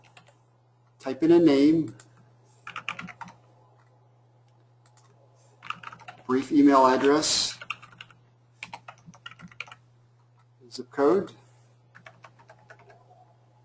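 Computer keyboard typing in an office recruiting-software demo as a new candidate's details are entered: short clusters of quick key clicks between and beneath a man's spoken explanation.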